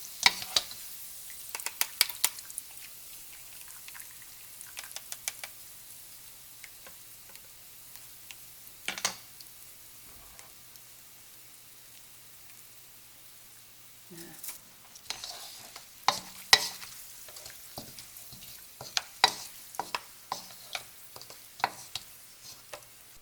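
Sliced large onions deep-fry in oil until golden, making a faint, steady sizzle. Sparse scraping and tapping stirs recur at irregular intervals, and no one is talking.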